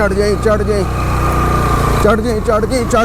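A motorbike engine labouring on a steep, rough mountain track toward Ratti Gali Lake in the Neelum Valley, a loud, close, throbbing drone with a wavering pitch as the rider works the throttle.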